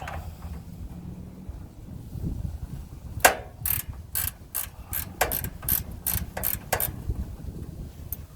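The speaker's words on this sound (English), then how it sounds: "You got to reach under the solenoid, hold the bolt while we loosen the nut." Ratchet wrench loosening a nut on a riding mower's starter solenoid, a Simplicity Sunstar, heard as a run of close, sharp ratcheting clicks in short bursts over a low background rumble.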